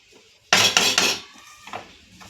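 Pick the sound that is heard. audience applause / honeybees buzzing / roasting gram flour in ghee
roasting gram flour in ghee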